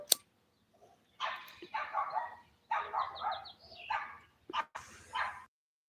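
A dog behind a house barks in short repeated bursts, a few quick yapping barks in clusters separated by brief pauses, moderately distant and fairly faint.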